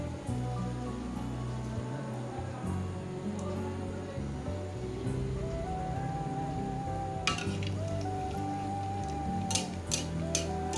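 Malpua batter ladled into hot oil on a high gas flame sizzles and crackles steadily, with a few sharper clinks of a ladle against the pan partway through.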